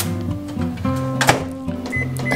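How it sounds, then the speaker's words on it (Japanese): A microwave oven running at 500 watts heats a Seven-Eleven charred soy sauce fried rice, a steady tonal hum with a door thunk and a brief beep near the end. "電子レンジ500ワットで1分50秒"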